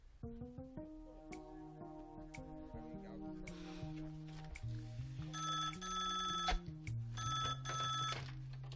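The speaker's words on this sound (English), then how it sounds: "I'm calling Al Sharko right now." A telephone rings on an outgoing call in a horror movie, with electronic ringing bursts sounding over a stepping musical score, moderately quiet.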